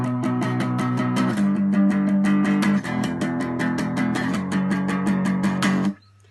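Guitar strumming unmuted chords from a song, a steady run of bright, evenly spaced strokes shifting chords partway through, loud and close, ending abruptly with no talking.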